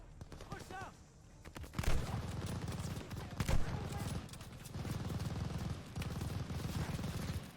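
Machine gun fire in Call of Duty: Vanguard, with bursts of rapid gunfire and sharp louder shots over a continuous battle din, mixed with voices talking.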